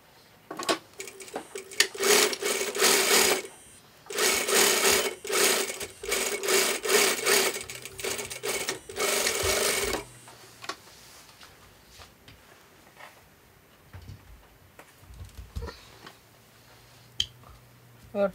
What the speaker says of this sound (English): Now I am going to stitch with a distance of 1/4 inch.